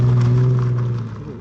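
A car engine revving during an attempted all-wheel-drive burnout with a seven-speed automatic, giving a loud, close, sustained hum that fades slightly near the end.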